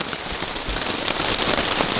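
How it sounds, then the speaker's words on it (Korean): Heavy rain drums steadily on a camping tent during a downpour at a mountain forest campsite, a dense close patter with scattered sharper drops and no voices. "빗방울이 다 떨어져가지고 이 텐트 밑으로 다 튀겨 들어가거든요"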